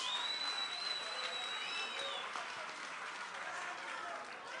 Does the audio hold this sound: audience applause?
yes